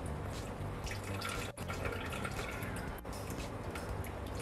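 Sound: water being poured into glutinous rice flour

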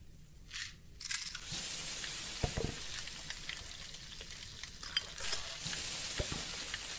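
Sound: mustard and cumin seeds sizzling in pan, Venba video game

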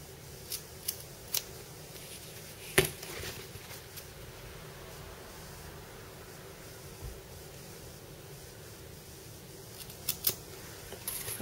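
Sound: cutting a rectangle in bag lining fabric

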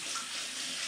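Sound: rinsing hands under running tap water

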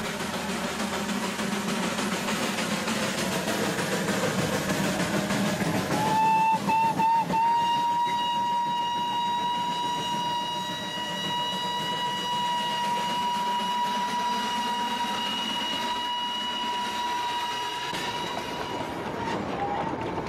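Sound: Indian Railways locomotive whistle and train running

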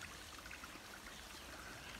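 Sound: small stream running by the trail

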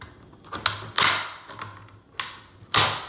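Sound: chisel prying open plastic graded comic slab

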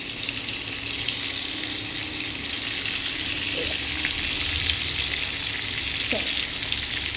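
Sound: butter melting and sizzling in oil in a pan

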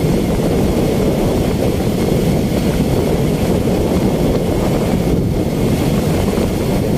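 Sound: wind blowing while riding a motorcycle

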